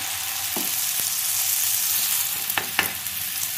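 Pizza batter fries in a pan with a steady, close sizzling hiss throughout, broken by a few brief utensil taps near the end; no one speaks.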